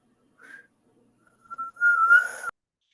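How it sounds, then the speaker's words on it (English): A person whistles during an online Zoom class, giving a short faint note, a pause, then a louder sustained wavering tone for about a second before it cuts off abruptly. "Whoever's whistling may stop."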